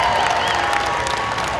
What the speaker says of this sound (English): Big love and applause for the real Disney Jungle Cruise skippers